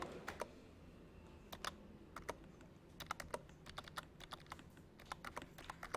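Quiet, close keyboard typing: irregular clusters of light clicks and keystrokes over a low room hum, no voices.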